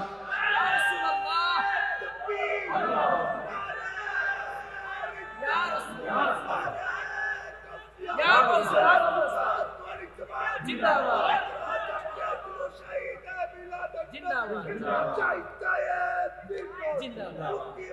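A large crowd at a religious sermon shouts slogans in loud, surging bursts, voices swelling and falling in repeated waves with brief pauses between chants.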